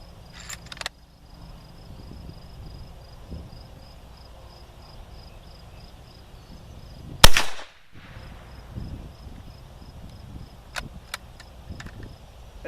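A single sharp report from an Argentine gallery carbine firing a Lyman 3118 cast bullet over a light charge of Bullseye powder, loud and close, about four feet from a chronograph, with faint insect chirping in the background.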